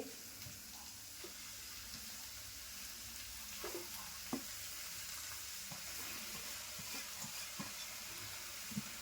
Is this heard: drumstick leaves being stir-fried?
yes